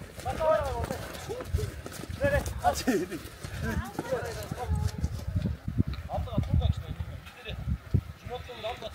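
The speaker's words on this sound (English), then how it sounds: "our grey horse has decided he's going to back up again." A grey horse's hooves clip-clop on the ground as it backs up at a goat-carrying horseback game at Jeti-Ögüz, a busy jumble of hoofbeats under a loud voice talking and crowd noise.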